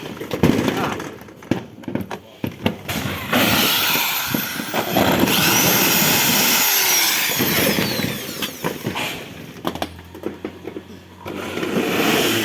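A power drill whirs in several sustained bursts, with short sharp knocks and clatter between runs and some voices nearby.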